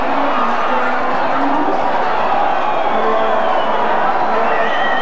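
A dense, steady roar of a football stadium crowd at a 1987 elimination semi-final between Marconi and Sydney Croatia, loud and continuous throughout with swelling cheers and babble, no clear individual voices standing out.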